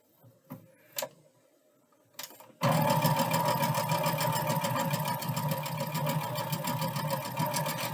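A sewing machine stitches fabric pieces, starting after a few light handling clicks and then running as a loud, fast, steady mechanical whir close by.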